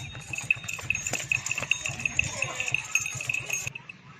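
Goat hooves clip-clop quickly at a goat farm with nannies and their kids, an irregular patter of steps over a steady high insect-like hum, with faint voices in the background.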